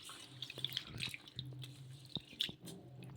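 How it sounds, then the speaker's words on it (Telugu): Water being poured off washed rice and sago for instant idli, heard as close dripping and splashing trickles with small wet squishes, fairly quiet, no talking. "ఇప్పుడు ఈ నీళ్ళన్నీ కూడా వంపేసుకోవాలి"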